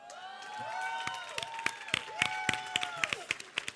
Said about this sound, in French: J'aimerais aussi une belle, grande, chaleureuse main d'applaudissement pour M. Lapierre.